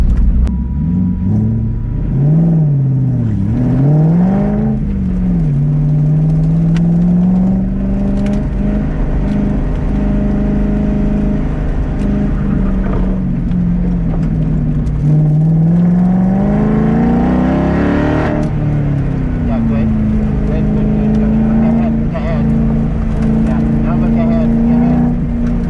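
A Cobra Daytona replica car accelerates around an autocross course, its engine droning loud and continuous with rising and falling revs through the turns, heard from inside the car with no talk.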